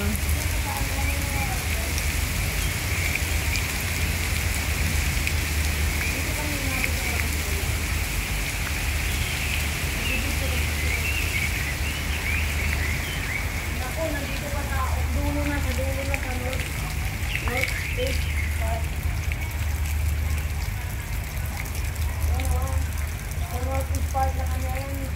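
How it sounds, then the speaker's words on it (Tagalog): Heavy rain pours steadily in a park in Tsing Yi, Hong Kong, a dense continuous hiss with distant rumbling beneath, while people talk quietly. "Ayan, ang lakas ng ulan."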